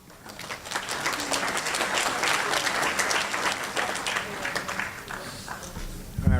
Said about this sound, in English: round of applause for these graduates